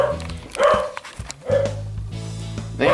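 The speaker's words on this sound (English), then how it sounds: "And Susie barking." A dog barks indoors in several sharp, loud bursts with short gaps between them, close to the listener and heard on its own.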